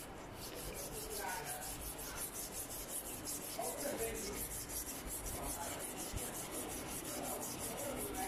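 Ceramic filter core from a Daikio hot-and-cold water purifier scrubbed clean, a steady, faint gritty rubbing that continues evenly and close up throughout.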